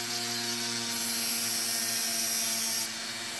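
Folded sandpaper rubs steadily against a small billet filler cap spinning on a lathe or drill, a continuous close, even scratchy friction over a constant motor whine, without talk.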